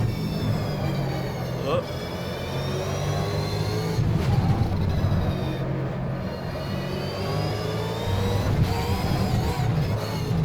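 A V8 Supercar engine in the Automobilista racing game at the Winton circuit, revving and sweeping through gears with a steady loud drone and rising pitch, while a voice talks over it.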